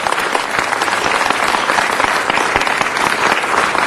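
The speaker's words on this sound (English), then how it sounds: "Give them a round of applause for that." Loud, dense applause from the audience at a city council meeting, a continuous wash of many hands clapping close by for a few seconds.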